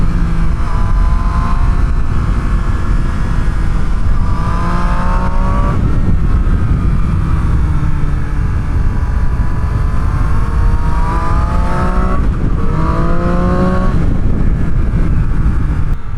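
A 2019 Triumph Street Triple R motorcycle engine revs and pulls hard, rising in pitch through the gears, then drops and climbs again, loud and close throughout.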